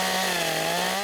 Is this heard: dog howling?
no